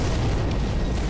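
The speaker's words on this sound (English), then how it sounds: "I'm gonna try and hit that motherfucker with a stick grenade." A stick grenade exploding in the Sniper Elite 4 video game: one loud, heavy, rumbling blast with broad noise that fills the whole brief moment.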